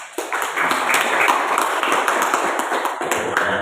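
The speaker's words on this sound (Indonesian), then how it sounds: "Kasih aplaus tepuk tangan." An audience gives applause for policewomen at a 75th-anniversary gathering at an Islamic boarding school, a close burst of quick, crisp hand claps from a modest group, steady for a few seconds.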